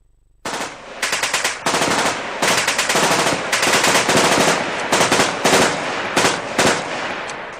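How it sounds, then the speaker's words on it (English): Loud, close bursts of rapid automatic gunfire ring out in quick strings with short pauses between volleys, sustained for several seconds after a sudden start. "I love to rip off some shots"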